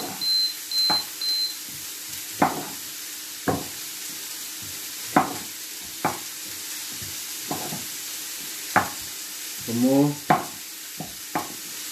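Tomatoes tossed into a hot breakfast pan: repeated sharp scrapes and knocks of a utensil stirring at irregular intervals over a low, quiet sizzle, with a brief faint beep early on.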